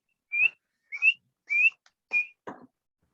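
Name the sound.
person imitating spring peeper frog call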